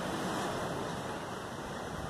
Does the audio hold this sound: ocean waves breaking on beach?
yes